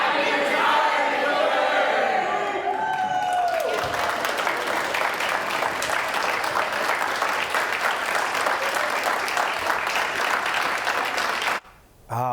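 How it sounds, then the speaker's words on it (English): Newsroom staff at a TV station break into sustained applause and cheering together, a dense, loud wash of clapping that runs on after voices fade, cutting off abruptly near the end. "keep the applause going"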